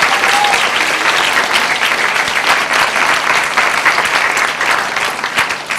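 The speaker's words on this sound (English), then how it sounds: "So please give them a round of applause." An audience at a Rochester City School District event applauds the teachers seated among them, a loud, even wash of clapping that carries on for several seconds with a few whoops.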